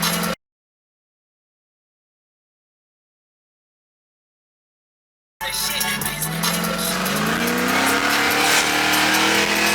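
A supercharged Monte Carlo SS with a Whipple-blown 376 LSX engine rated over 700 hp roars under hard acceleration after a stretch of silence, the rising pitch of the engine loud and continuous from inside the car.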